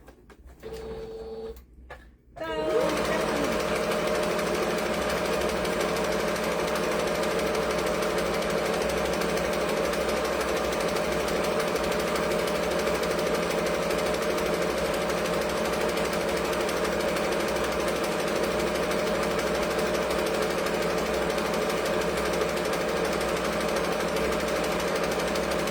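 A sewing machine stitches a second bag strap, a loud steady mechanical whir running continuously for over twenty seconds after a brief start, close and alone without talk.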